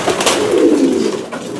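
A pigeon cock coos close by in a low, throaty, rolling murmur lasting under two seconds, loud and alone without talk.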